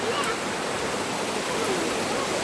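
Steady rushing of flowing water at Kalilangan Cold Spring, a constant broadband stream sound close by and alone, with no talk over it.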